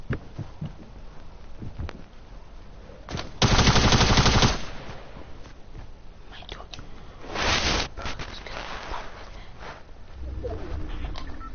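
Automatic weapon fire in Fortnite bursts out in a loud, dense volley of rapid shots around the middle of the clip, followed by a shorter second burst, with quieter game noise and occasional speech around it.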